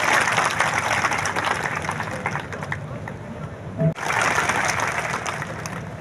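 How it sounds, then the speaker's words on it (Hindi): A large crowd at a political rally and community conference in Isagarh claps loudly in a steady, dense wash of applause that swells and dips, fairly close. "ईसागढ़ के इस धरती पर जोरदार तालियां बजाकर के अभिनंदन करें"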